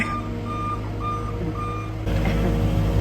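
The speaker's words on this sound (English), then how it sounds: "that's Ray, Rayman Ray, driving the, what is that, skid steer?" Repeated electronic reversing beeps from a nearby skid steer, evenly spaced, over a low engine rumble that grows louder near the end.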